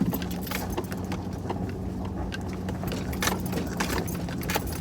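Inside a truck jolting over a bumpy road in the Smokies, keys jangle and the cab rattles in quick, irregular bursts over a low engine rumble.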